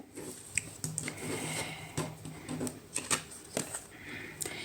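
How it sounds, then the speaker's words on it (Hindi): Tarot cards being laid out and handled on a table, a run of soft slaps, flicks and papery shuffles in quick irregular bursts, close and fairly quiet. "चलिए अभी पहले कार्ड लगा लेते हैं"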